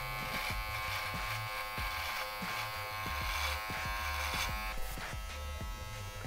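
An electric shaver buzzes steadily and loudly, close up, as it shaves through a long-grown beard, with rhythmic low scraping strokes pulsing through the continuous motor whine and no talking.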